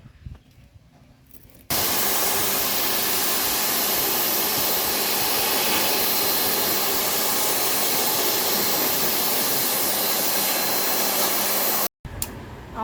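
High-pressure water spray washing the rear air conditioner unit of a Mitsubishi Pajero Sport, a loud steady hiss running for about ten seconds after a quieter start, then a brief cutoff near the end.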